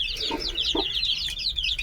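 Dense high-pitched peeping and chirping from fifteen-day-old chicks, continuous and close, with a couple of soft low clucks underneath.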